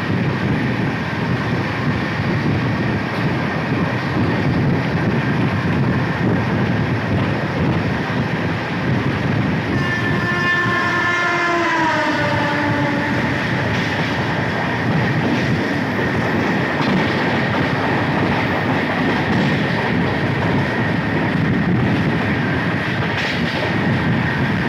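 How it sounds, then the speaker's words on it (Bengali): Howrah Bolpur Shantiniketan Express running near Kamarkundu, heard from aboard the train as a steady, loud rumble with wind noise. A horn sounds in the middle, with a slightly falling pitch. "আমাদের ট্রেন এখন কামারকুণ্ডু পাস করছে"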